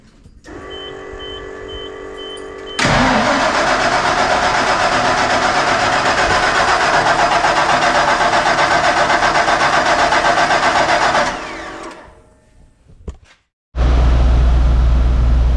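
A car engine, just repaired after a busted fuel pump, cranks and catches, then runs loud and steady at idle for several seconds before cutting out. It restarts abruptly near the end.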